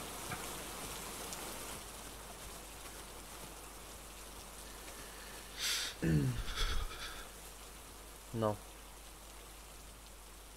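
Steady rain falls as a soft, continuous hiss in the survival video game HurtWorld. Brief voices and scattered game sounds are heard over it.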